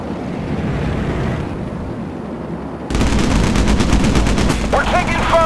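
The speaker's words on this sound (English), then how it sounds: "We're taking fire!" Naval battle gunfire in the Battlestations Pacific video game during the Iwo Jima invasion, a roar of wind and surf-like rumble followed by loud sustained rapid machine-gun bursts in the second half.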